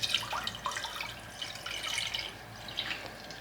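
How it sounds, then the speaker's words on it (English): Water pours in a faint, bubbling, splashing stream into a camping cooking pot, a quiet continuous trickle with small drips and no talking. "we're going to pour some water into this boiling pot"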